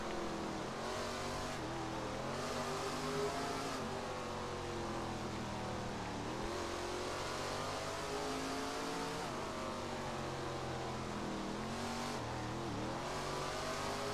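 A super late model race car in a racing sim, engine revving hard and continuously with rising and falling pitch as the throttle lifts and reapplies, loud and close, no voices.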